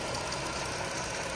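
A 2017 Chrysler Pacifica minivan with a 3.6 liter V6 idles with the hood open, a steady low hum and faint mechanical ticking, even and unbroken, recorded close without speech.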